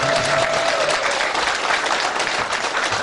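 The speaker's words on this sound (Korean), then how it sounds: "박수를 다 한번 쳐주십시오." Crowd applause at a campaign office opening for a Democratic Party mayoral candidate in Pocheon, steady dense clapping filling the room throughout, loud and close.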